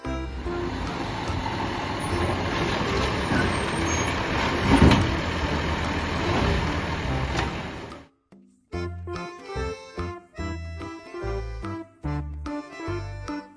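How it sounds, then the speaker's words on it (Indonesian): A garbage truck engine rumbles loudly and steadily for about eight seconds, then cuts off and gives way to choppy, rhythmic musical bursts, with no voices heard. "Mobil truk sampah."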